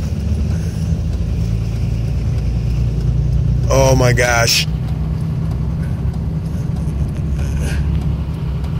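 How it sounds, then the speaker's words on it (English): An old Ram truck engine shudders as it begins to stall, a loud, steady low rumble throughout with a brief startled voice breaking in near the middle. "Shuddering. Engine is shuddering."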